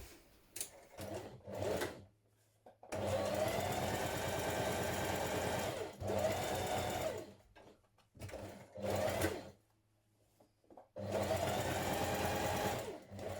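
A sewing machine stitching down pleats on a New Look 6577 cowl neck blouse, running in several loud, steady bursts of rapid needle hum with short pauses between them, close up.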